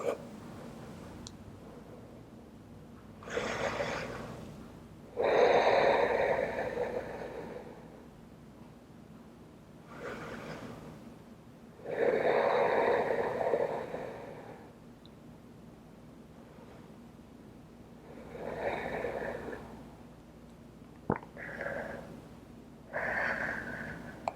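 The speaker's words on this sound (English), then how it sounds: "try to stay here for 5 long yoga breaths" Slow, long yoga breaths, drawn in and pushed out through the nose in a steady rhythm, each swelling for a few seconds before easing off, close and soft with quiet pauses between.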